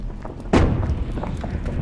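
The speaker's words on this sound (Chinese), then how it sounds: "爆炸了！" A single deep boom from an explosion in the video game Suicide Guy hits about half a second in, then fades into a low rumbling tail.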